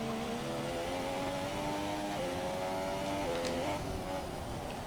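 An F1 car engine in the wet in F1 2017, on a rev limit, holding a steady buzzing tone with small pitch shifts as it changes gear, loud and continuous, with no talking.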